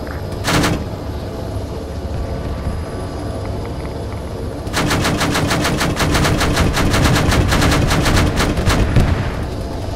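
Gunfire in the Arma 3 video game during an island assault: a single loud burst early on, then sustained rapid automatic fire with dense, evenly spaced shots dominating the second half over a constant rumble.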